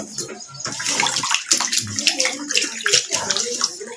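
Fish for a Shan-style steamed fish curry is washed by hand in water, with close splashing and sloshing under a voice.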